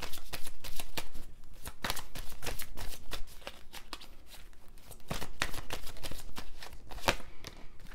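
Tarot cards shuffled by hand in a steady run of crisp riffling and slapping bursts, close and fairly loud, with no talking over them.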